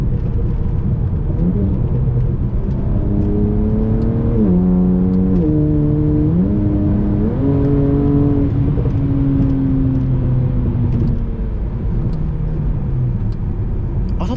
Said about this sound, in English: Yeah, listen to these downshifts.